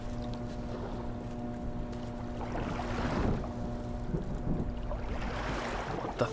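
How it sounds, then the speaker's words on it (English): Water lapping and splashing against rocks on the island in the Myst VR game, a steady low wash that swells in two gentle surges, set under a constant electrical hum and a faint wind-like hiss. "You can just hear that water hitting the rocks."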